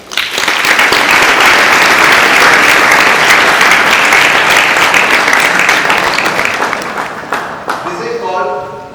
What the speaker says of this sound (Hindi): एक बार अपने लिए जोरदार ताली बजाएं।